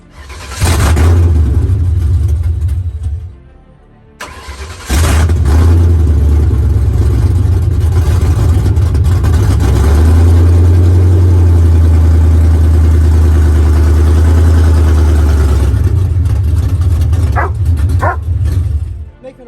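A Ford Mustang GT engine, idling, revving and then pulling the low car slowly up onto wooden blocks, loud and close, with a brief lull, plus a dog barking intermittently nearby.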